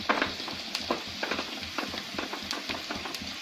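Chopped onions sizzle and fry in a pan on a gas stove for dhaba-style urad dal tadka, with steady crackling and repeated scraping stirs close by.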